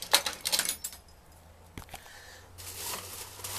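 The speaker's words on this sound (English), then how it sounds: "Hold on for a second while I try to get in. Got too many keys." A large bunch of keys jangles and clinks in quick bursts while a door is being unlocked, close and fairly quiet, then gives way to softer rustling and a low background hum.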